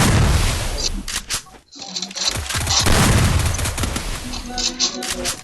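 Gunfire in a video game scoring headshots, rendered as dense bursts of shots and booms with a brief gap, loud and close under game audio, with a voice talking over it.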